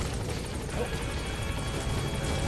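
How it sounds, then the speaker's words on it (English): A support helicopter in a Metal Gear video game arrives. Its rotor beats in a continuous, steady, moderately loud chop with no talk over it. "Support helicopter has arrived."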